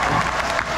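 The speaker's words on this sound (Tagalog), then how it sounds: "lalong mas malakas ang palakpak kay Mayor Jerry Austria Barzaga" A crowd applauds Mayor Jerry Austria Barzaga at an evening meet-and-greet for the AGIMAT Partylist. It is a brief, even wash of many hands clapping together, moderately loud and without speech.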